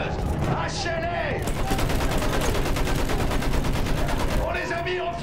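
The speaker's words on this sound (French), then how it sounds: "À la mitrailleuse. Hachez-les." Sustained machine gun fire rattles in the First World War shooter Battlefield 1, a rapid, continuous stream of shots over trench battle noise, with voices shouting at the start and end.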